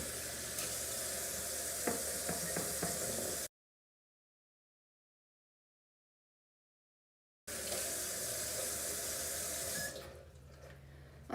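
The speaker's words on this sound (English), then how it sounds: "So I'm going to wash my hands right now." Hands being washed under a running kitchen tap with hot soapy water: a steady rushing splash that cuts out for a few seconds, then resumes and fades toward the end.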